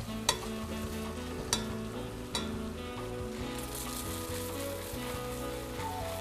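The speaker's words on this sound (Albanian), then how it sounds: "Qepa është fërgu" Chopped onion sizzling in a pan at the start of a pistachio risotto, a steady close frying crackle broken by a few sharp stirring clicks and scrapes, with no talking.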